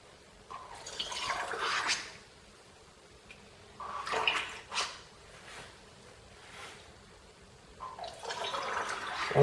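Milk poured into small yogurt pots in three quiet bursts of trickling liquid, each a couple of seconds long, separated by near silence.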